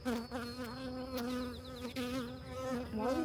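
Honey bees buzz close and continuously while a colony is being split outdoors, a dense droning hum that swells and dips throughout without talk.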